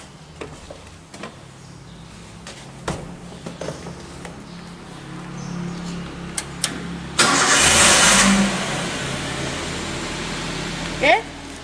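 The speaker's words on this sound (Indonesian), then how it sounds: "kemudian kita nyalakan mesin mobil, kemudian kita cek gas buangnya" A Toyota Avanza's engine cranks and starts for an emission test, then settles into a steady idle with a brief loud rev burst, while people talk nearby.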